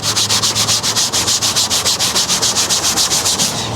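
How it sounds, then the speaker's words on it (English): Rhythmic gritty rubbing, like sandpaper scraping back and forth over car paint covered in heavy overspray, repeating steadily about seven times a second, loud and close with no voices. "basically it sounds like grit or like sandpaper"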